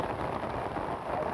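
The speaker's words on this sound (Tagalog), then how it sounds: "Lakas ng ulan." Heavy rain pours down steadily and close by, a dense unbroken hiss of drops drumming on surfaces through the whole stretch, with no voices.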